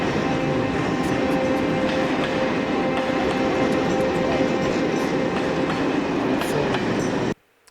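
Train station ambience with steady loud rail and train noise, a continuous rumbling wash with faint clicks and a thin sustained tone throughout, cutting off abruptly near the end.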